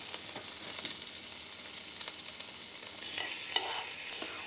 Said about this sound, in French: On vient vraiment colorer toutes les faces de la crevette.